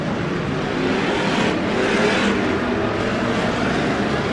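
Race cars roar around the Bakersfield Speedway oval under green-flag racing, a loud sustained engine drone with shifting pitch as cars pass, near and continuous.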